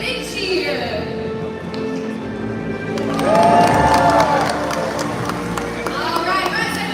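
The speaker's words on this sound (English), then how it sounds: "So when you see Makayo, let's give him a great big cheer." A crowd at a SeaWorld Orlando live show cheers, claps and shouts, swelling to a louder burst midway before settling into excited chatter, with voices mixed throughout.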